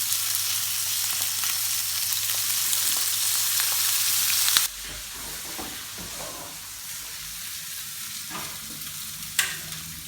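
A stuffed turkey roast with mushrooms sears in olive oil in a pan, giving a loud, bright sizzle that drops abruptly to a softer, crackling fry with a few sharp pops.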